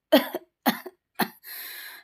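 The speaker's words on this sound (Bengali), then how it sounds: "আজকে কয়টা দিন ধরে কাশি" A man coughs three times in short, close, harsh bursts, followed by a breathy exhale.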